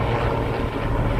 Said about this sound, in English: Helicopter in the sky,